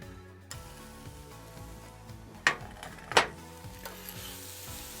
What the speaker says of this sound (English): So now we're going to put our chili, spring onion, garlic and butter into the pan.